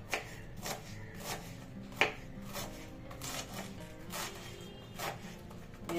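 A knife finely chops soft cabbage on a board in a steady run of quick, close, crisp taps, with one sharper knock partway through and no talking.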